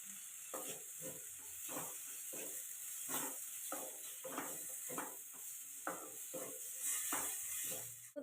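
Onion, tomato and ground cumin and coriander powder being stirred in a pan, a steady soft sizzle and hiss broken by repeated scraping strokes of a spoon, close and moderately loud, with no talking.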